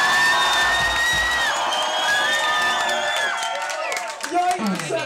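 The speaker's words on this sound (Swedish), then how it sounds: "Kan jag också få en applåd?" A concert crowd at a show cheers and whoops with scattered clapping, rising voices sliding in pitch over a dense roar that thins toward the end.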